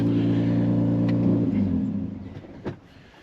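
A Jeep's 3.6-liter V6 with a six-speed manual idles steadily, then shuts off, the rumble fading out over about a second, followed by a brief click and near silence.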